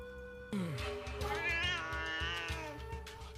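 A wild cat in a period drama lets out a long, loud, wavering meow that starts abruptly and rises and falls close by, alone without speech.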